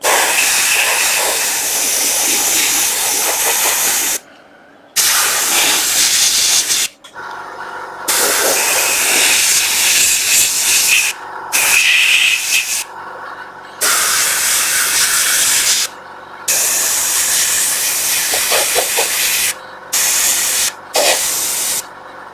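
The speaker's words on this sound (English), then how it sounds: "you're continuously spraying on the same spot" An airbrush sprays enamel paint in long continuous hissing bursts separated by brief pauses, loud and close, while painting a Mando figure.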